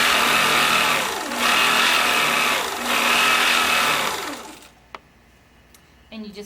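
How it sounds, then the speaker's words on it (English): APQS longarm quilting machine stitching a quilt with the stitch regulator on, a loud close whirring motor hum that swells in two waves, then stops, followed by quiet clicks and handling. "I'm going to turn on my stitch regulator, my machine, and I'm just going to start sewing."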